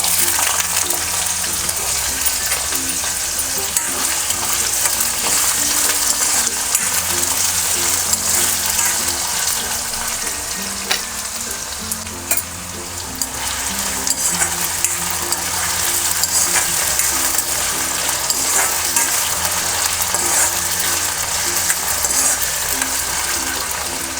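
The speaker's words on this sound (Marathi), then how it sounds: "बटाटे चांगले फ्राय करून घ्यायचे तेलामध्ये." Diced potatoes fry in hot oil in an iron wok, giving a steady, loud sizzle with occasional stirring scrapes throughout and no talk over it.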